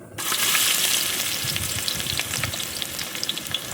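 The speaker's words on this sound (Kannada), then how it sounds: "ಹೆಚ್ಚಿಟ್ಕೊಂಡಿರ್ತಕ್ಕಂಥ 2 ಈರುಳ್ಳಿ ನಾನು ಹಾಕ್ತಾಯಿದ್ದೀನಿ" Two chopped onions hit hot oil in a cooking pot with a sudden loud sizzle that settles into steady frying crackle, with occasional stirring scrapes.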